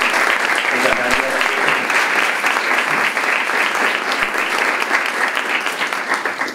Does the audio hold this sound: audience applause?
yes